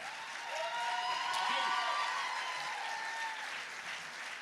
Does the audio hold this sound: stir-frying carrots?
no